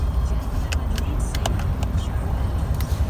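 A 2018 Ram truck driving on a road with its transmission locked in 8th gear, a steady low engine and road drone with occasional faint clicks above it, no talk.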